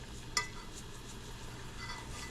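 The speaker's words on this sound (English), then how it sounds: "just making a little scrambled eggs" Scrambled eggs cook quietly in a pan with a soft, low sizzle and one light clink of a utensil against the pan near the start.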